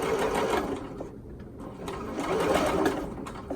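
A sewing machine runs steadily, stitching a knit neck binding, with a continuous close whirring hum that dips briefly midway before picking back up.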